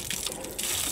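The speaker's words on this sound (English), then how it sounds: "if you just give it a few pumps, it'll come out lovely and clean" Fresh water gushing from a hand pump outdoors, a brief broad splashing rush under a second long, close and fairly loud.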